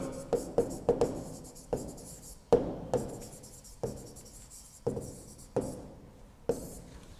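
Chalk or marker strokes on a board during a maths lesson on rational numbers, a run of short scratchy taps and scrapes in an uneven rhythm, close and fairly quiet with no talking.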